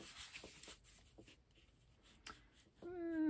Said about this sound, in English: So let me draw that line.